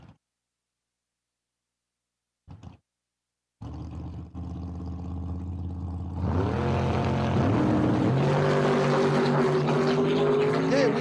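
Drag race cars accelerating down the strip at a dragway: after brief silence and a short burst, a loud engine roar starts and swells, rising in pitch as the cars pull away, steady and dominant until the end.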